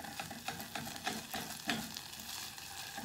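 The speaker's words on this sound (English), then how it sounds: "So we're just going to let that sizzle away." Tomato puree sizzles and spits in hot oil in a pan, a dense continuous crackle with occasional sharper pops as it is stirred, close and steady with no voices.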